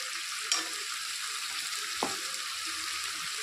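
Spices, including turmeric powder, hit a hot pan for a katla fish curry with teasel gourd, giving a steady, close broadband sizzle with a couple of brief clinks from stirring and no voices.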